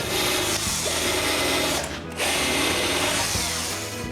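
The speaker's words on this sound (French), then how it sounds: "Et je perce le reste des trous pilotes." Power drill boring a series of pilot holes while fitting a rail, loud and continuous motor whine with a short dip in the middle as the bit is lifted out before drilling resumes.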